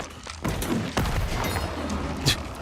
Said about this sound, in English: blast them with a cannon